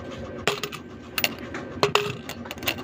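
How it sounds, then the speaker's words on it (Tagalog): Old coins handled and clinking together, a handful of sharp metallic taps and jingles scattered irregularly over a few seconds, close and fairly quiet, with no talk. "Ano ito, yung lumang mga lumang barya."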